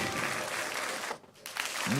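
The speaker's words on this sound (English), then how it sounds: "It's a long applause." Long applause sound effect played back, dense crowd clapping that briefly cuts out and then resumes, with a voice speaking near the end.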